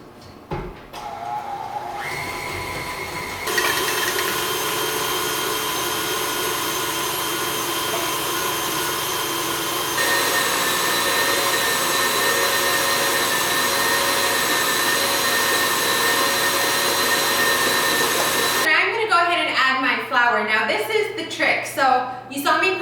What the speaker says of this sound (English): put 1 cup of butter in my mixer along with an egg, and we'll blend these up